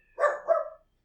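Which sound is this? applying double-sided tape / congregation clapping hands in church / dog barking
dog barking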